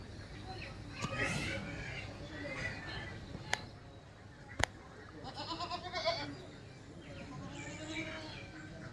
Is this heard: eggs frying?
no